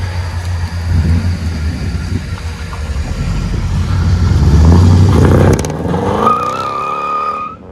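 A 1998 Chevy Silverado 1500 with a 5.7L V8, true dual exhaust and stock catalytic converters revs loudly up close, rising to a sustained roar before the throttle drops back and the engine settles.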